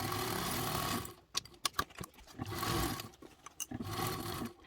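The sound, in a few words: sewing machine stitching a seam on a crescent bag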